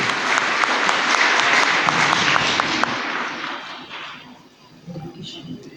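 A church congregation bursts into loud, sustained applause during a Holy Mass, a dense wash of clapping that fades out after about four seconds.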